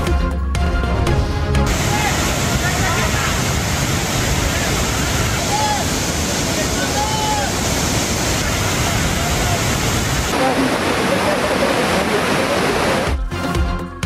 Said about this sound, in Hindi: सरसब्ज पहाड़ों से शफाफ पानी के बहते झरने